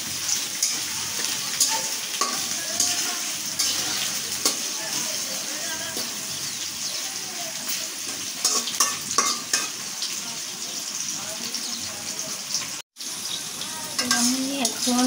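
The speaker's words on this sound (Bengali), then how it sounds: "পেঁয়াজ রসুনের সাথে মাথাটাও একটু ভাজা ভাজা করে নেব" A hilsa fish head fries with onion and garlic in a pan and is stirred steadily. A loud, continuous sizzle sits under repeated scraping and clattering of the spoon, with one brief dropout near the end.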